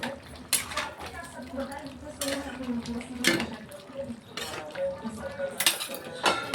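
Chicken being stirred with garam masala and spices in a pot for kasuri methi malai chicken, with repeated metal spoon scrapes and clinks against the pot, close and moderately loud, with a voice talking over parts of it.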